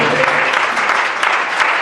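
A church congregation gives a loud, sustained round of applause during a Christian sermon, a dense and steady wash of clapping hands that stays even from start to finish.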